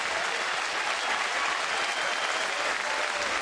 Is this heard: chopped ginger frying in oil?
no